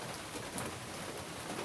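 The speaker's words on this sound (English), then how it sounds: "here comes the rain again" Rain pours down along the Appalachian Trail as a steady, even hiss of drops close around the microphone, fairly soft and with no talk.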